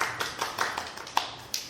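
A talk show audience greets a guest with scattered clapping, a few separate sharp claps in an irregular rhythm, fairly close and light rather than a full ovation.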